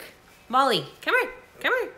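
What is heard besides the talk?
dogs barking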